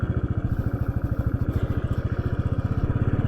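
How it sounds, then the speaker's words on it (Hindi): A Royal Enfield motorcycle engine, started after two years unused, thumps along at a steady, fast idle rhythm, close and fairly loud, with a low pulsing chug throughout. "अभी बाइक को स्टार्ट करते हैं"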